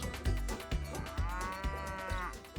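Cattle in Mount & Blade: Warband give one long, drawn-out moo in the middle of the clip, clear over steady rhythmic game music.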